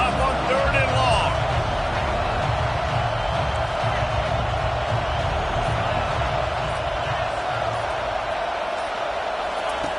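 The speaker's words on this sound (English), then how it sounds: "Here comes the crowd trying to make it tough on 3rd and long." Stadium crowd roaring steadily through third and long at an American football game, a dense continuous wash of voices with a commentator talking over it.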